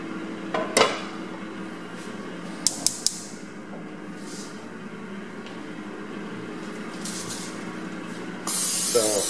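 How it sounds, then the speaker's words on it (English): Eggs for huevos rancheros fry in a pan with a soft, steady sizzle and hiss. A few sharp clinks of utensils on the pan cut through, and a louder spray of hiss rises near the end. "So I'm cooking these eggs"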